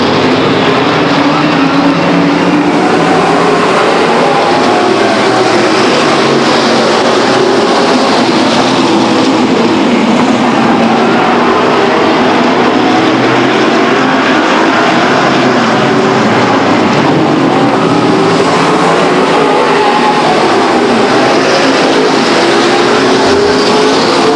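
Late model race cars roaring around Stockton 99 Speedway at a green flag start, a loud continuous engine drone that swells and shifts as the pack passes, with no voices over it.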